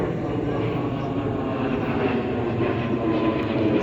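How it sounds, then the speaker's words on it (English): An airplane turning overhead above a rose garden, heard as a loud, sustained broadband engine rumble that stays steady throughout with no clear pauses. "The plane is turning,"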